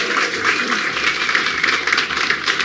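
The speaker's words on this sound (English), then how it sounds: "Round of applause for Richard." Steady, close applause from guests at a 90th birthday party, a dense continuous patter of many hands clapping with no pauses through the whole stretch.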